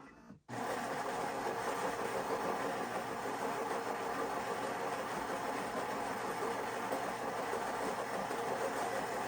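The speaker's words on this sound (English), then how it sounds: "So yes, the grinder is really quiet." Philips 3300 coffee machine grinder grinding beans behind its lid, starting abruptly and then holding a steady, muffled whirring drone throughout, fairly quiet with no talking.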